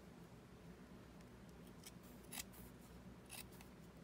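Faint, close scissor snips trim a fabric cover on a paper bag junk journal, several short crisp clicks spaced irregularly over a low background hum.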